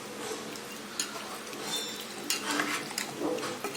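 Country chicken curry is stirred in a pan, a faint sizzle with sporadic scraping and clinks of a spoon against the metal, quiet and close, without speech.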